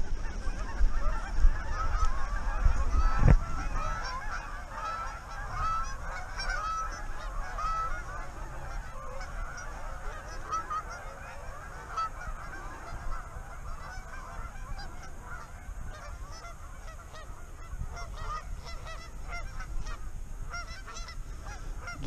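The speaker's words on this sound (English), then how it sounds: "Geese are the worst, man." A flock of geese honking outdoors, repeated nasal honks overlapping in an irregular chatter over a steady background, fairly close at first and continuing at moderate loudness throughout.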